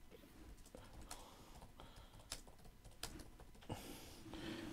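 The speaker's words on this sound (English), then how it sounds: "I'm just typing." Someone types on a computer keyboard, producing faint, quiet clusters of key taps with irregular pauses between them.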